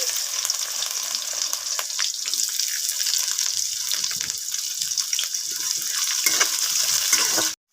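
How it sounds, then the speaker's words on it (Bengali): Chopped onion fries in hot oil spiced with dried red chilli, bay leaf and five-spice for a fish curry, a dense, even, close sizzle with faint stirring clicks, no voices. "এবার দিয়ে দিব পেঁয়াজ কুচি"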